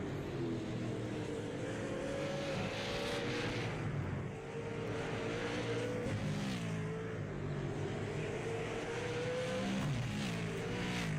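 Super late model race cars roar around the oval at Hickory, engines droning and rising and falling in pitch as the pack circles, heard steadily from a distance.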